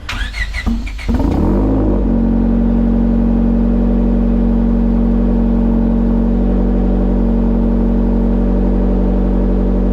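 Turbocharged Honda Civic with a full exhaust and Evil Energy muffler cranks with a brief rattling starter churn, then catches and settles into a steady, loud, deep idle that holds right up close.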